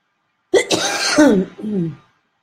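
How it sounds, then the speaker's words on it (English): A person coughs in a short, harsh burst of a few rough coughs, close and loud, standing alone against silence. "So I'll probably be coughing a little bit more"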